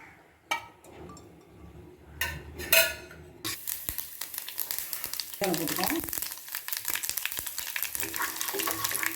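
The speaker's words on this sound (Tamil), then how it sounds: "அதில் கொஞ்சமாக எண்ணெய் ஊற்றி தாளிக்க வேண்டியது தான்" Hot oil crackles and sizzles steadily as spices are tempered for idi sambar, after a few clanks of utensils, with a pan being stirred and occasional metallic knocks.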